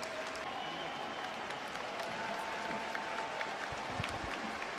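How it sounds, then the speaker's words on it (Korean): After a preseason training session, a crowd applauds a footballer who keeps running to the end, a steady wash of clapping at moderate distance with faint background voices. "마지막까지 끝까지 뛰고 있는 케인을 향해서 박수가 쏟아집니다"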